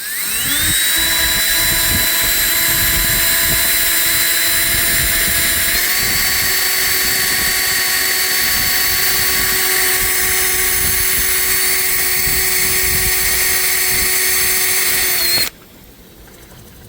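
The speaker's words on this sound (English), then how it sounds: "By drilling a hole at each end of the crack, it'll stop it from propagating or wanting to run and break the solder apart." A drill bores holes at the ends of a crack in the heat exchanger of a Universal MP 25 XP sailboat engine, giving a steady, loud, high whine for about fifteen seconds before it cuts off abruptly.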